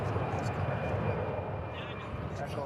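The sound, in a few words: airliner revving its engines at DFW Airport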